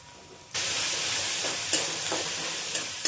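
Onion and tomato puree, with ginger-garlic paste, drops into hot oil and bursts into a loud, steady sizzle, with a few faint stirring scrapes and no voices.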